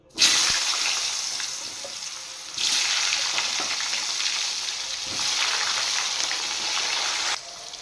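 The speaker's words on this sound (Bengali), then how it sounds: "এবার আমি কেটে রাখা আলুগুলো ভেজে তুলে নেব।" Sliced potatoes seasoned with salt and turmeric fry in hot oil with a loud, steady sizzle. The hiss swells in a few bursts, as if the slices are stirred or added, and no one speaks.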